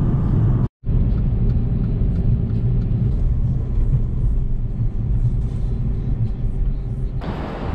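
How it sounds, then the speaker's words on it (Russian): Steady low rumble of a car cruising along a free road in the USA, continuous road and engine noise filling the cabin with a brief dropout near the start. "едем по бесплатной дороге"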